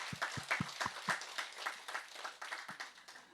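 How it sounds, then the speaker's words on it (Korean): Church congregation at a Sunday worship service clapping in thanks, fairly faint and sparse claps with a few distinct hand claps early on, in a reverberant hall. "그 하나님께 다시 한번 감사와 영광의 박수를 돌리겠습니다."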